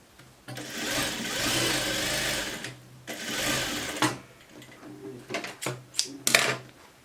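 Sewing machine stitching a sweatshirt waistband, running loud and close in two sustained whirring bursts, then short stop-start stitching runs with clicks and handling noise.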